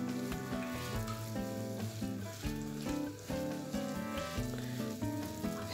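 Rice and kefta mixture sizzles steadily in olive oil in a pan while being stirred, a close, continuous frying crackle with soft scraping movements throughout.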